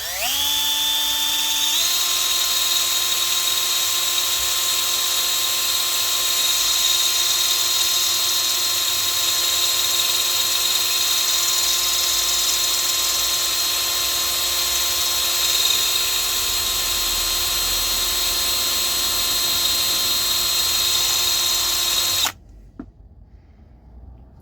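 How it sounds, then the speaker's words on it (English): A very small Dremel cutting disc mounted on a drill grinds through tough steel on a Peugeot 207 wheel bearing and drive shaft, a steady high-pitched whine that spins up, holds loud and close for about twenty seconds, then cuts off abruptly. "I've got a very, very small Dremel, little cutting disc, which hopefully might work, which I'm going to put on drill."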